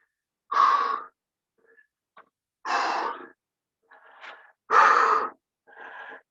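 A group exhaling together during a breathing exercise, three long breathy blows with softer shorter breaths between, close and alone without speech.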